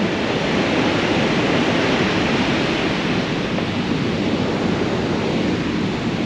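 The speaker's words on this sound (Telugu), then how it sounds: "వాటర్ ఫ్లో అయితే మస్తు జరుగుతుంది" Water rushes loudly and steadily through the opened gates of the Gandikota reservoir dam, a dense, continuous roar of flowing water with no pause across the whole stretch.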